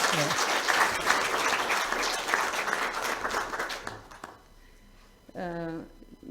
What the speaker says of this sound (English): We could applaud.